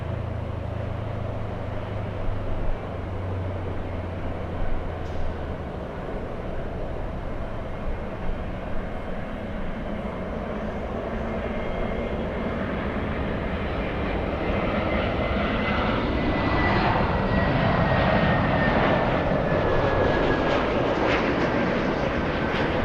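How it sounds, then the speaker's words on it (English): A Delta Boeing 737 takes off from LAX bound for San Francisco: a distant steady rumble builds into a louder jet roar with a thin rising engine whine. "We have the 737 Delta heading to San Francisco."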